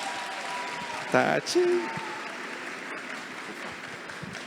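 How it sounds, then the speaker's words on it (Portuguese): Audience applause at a panel during the 2021 Bienal do Livro book fair, a soft, steady patter of clapping running under a brief spoken exclamation and a few voices. "Por favor, uma salva de palmas."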